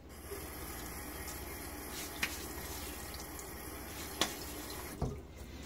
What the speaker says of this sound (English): Let me throw a bit of water on my face.